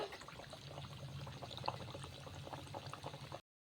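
Thekua dough sizzling as it fries in hot oil, a steady dense crackle and bubbling that holds evenly for about three and a half seconds, close by and moderately loud, with no talking.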